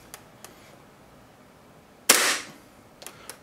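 A single sharp shot from an airsoft gas blowback Hi-Capa pistol fed by a ProWin standard war-game magazine, loud and close, with a short hissing tail and faint clicks of handling before and after in a quiet room.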